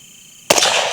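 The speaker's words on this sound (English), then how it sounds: "I'll just take a shot towards the center of that paper target" A suppressed rifle fires one sharp shot at a paper target, a sudden loud crack after quiet room noise, followed by a brief decaying rumble.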